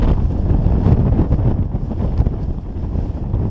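Icy cold wind blows hard and steadily across an open Lake District fell above Derwentwater and Blencathra, a loud continuous roar and buffet on the microphone with no voices.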